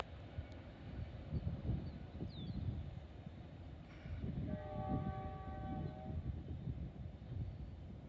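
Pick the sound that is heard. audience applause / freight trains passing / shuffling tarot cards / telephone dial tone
freight trains passing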